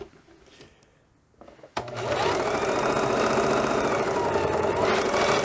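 A sewing machine stitches a seam on a fabric face mask, starting after a soft quiet lead-in and then running loud and steady with a close mechanical whir and rapid needle chatter.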